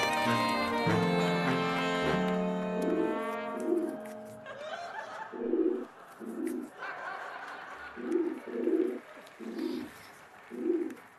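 A pigeon or dove coos in soft, low, evenly spaced pulses, about eight of them, after a brief tonal voice-like sound at the start. The setting is otherwise quiet.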